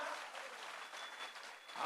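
An audience at a community gathering for a spiritual speaker's talk claps in a dense, continuous burst of applause, heard moderately from within the hall, without voices over it.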